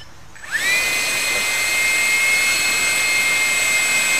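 A small electric ducted fan spools up from rest around half a second in, its rising whine settling into a loud, steady high-pitched tone with strong harmonics that holds for several seconds.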